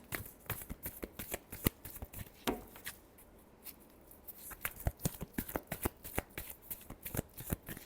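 Tarot cards are shuffled close by in quick, crisp riffle and flick bursts, a rapid run of sharp papery snaps with a short pause partway through, with no voices.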